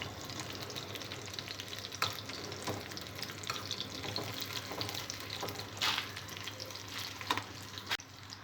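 Green chillies fry in a pan for a mint and sesame chutney, giving a steady soft sizzle with a few louder crackles and stirring scrapes throughout.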